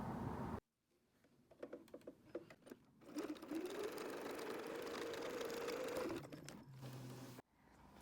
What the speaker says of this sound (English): I'm going to follow this line with the sewing machine